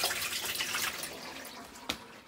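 Water splashes and trickles steadily into a pan while rinsing the drain filter of a Maytag front-loading washing machine, with one sharper splash near the end.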